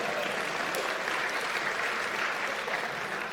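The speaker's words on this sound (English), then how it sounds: "I was going to say, this is where you applaud." An audience at a parent and family orientation claps in a sustained, even round of applause, moderately distant and fairly soft, filling the room without any voices over it.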